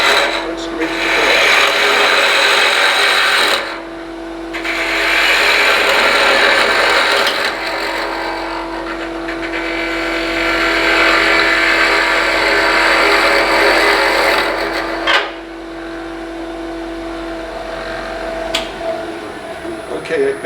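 Wood is hollowed out on a lathe with a spindle roughing gouge, giving a steady scraping, rasping cut that starts and stops in several long passes over a constant motor hum, with a person talking at times.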